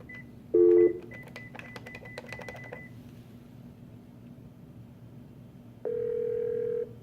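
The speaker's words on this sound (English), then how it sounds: "while I'm on the call, send a voicemail, dial the extension, pound" A classroom office phone system sends a quick run of keypad beeps as an extension is dialed, then a short pause and a longer steady tone after the pound key, with clear separate tones at close range.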